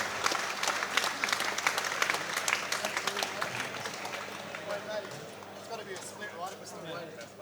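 A crowd at an amateur combat sports event applauds two debut fighters, a burst of dense clapping that starts strong and gradually thins and fades, with faint voices underneath.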